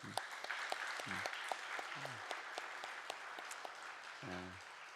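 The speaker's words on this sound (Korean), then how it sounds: "우리 사랑하고 축복하는 마음으로 우리 격려의 박수 한번 할까요?" A church congregation at a Friday prayer service claps in encouragement, a soft, continuous patter of many hands heard from a distance, with a few brief voiced sounds mixed in.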